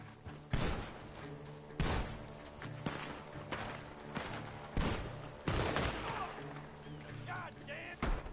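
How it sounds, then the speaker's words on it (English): Repeated gunshots ring out from a barn in the Western video game Red Dead Redemption 2, loud sharp blasts at irregular intervals, some in quick pairs, over a busy game soundscape with voices shouting nearby. "The gunshots are coming from that barn."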